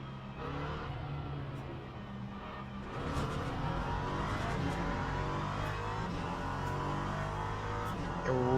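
LMP3 race car lapping Monza in a racing game, its engine a sustained loud drone with rising and falling revs and gear changes, heard close from the cockpit with no voices.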